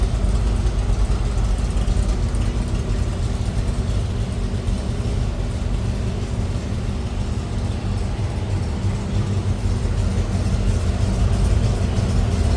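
A V8 engine in a 1965 Shelby Cobra replica with a four-barrel carburetor idles steadily with a deep, even rumble held constant throughout, close by, with no talking.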